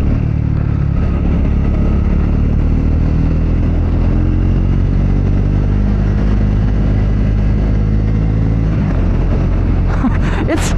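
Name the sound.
Triumph Scrambler 400X motorcycle being ridden, shifting gears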